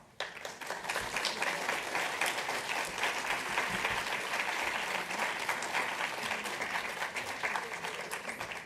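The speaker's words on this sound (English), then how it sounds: "let's have one more round of applause for all of our speakers and for SSA for hosting" Audience clapping after a talk on opioids and older adults: a dense, even round of applause from a room full of people that sustains for over eight seconds, with no voices over it.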